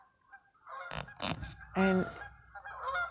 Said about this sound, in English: Yeah, they're going overhead.